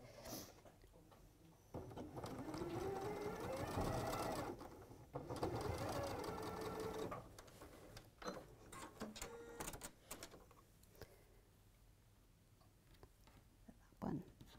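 A sewing machine whirs steadily as it stitches quilt fabric pieces together with a quarter-inch seam, with a fast mechanical ticking rhythm and a brief lull before it speeds up again.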